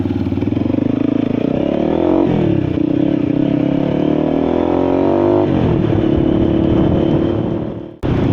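A motorcycle, brought out after sitting unused for many days, runs close by with a steady, throbbing engine note that rises and dips with light revving and some mechanical clatter, then cuts off abruptly at the end.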